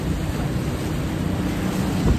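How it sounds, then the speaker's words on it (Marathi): Sea waves surge onto the shore at Ganpatipule on the Konkan coast: a steady, dense roar of surf mixed with rumbling wind buffeting the microphone, loud and unbroken throughout. "मस्त लाटा येतात बघू शकता तुम्ही"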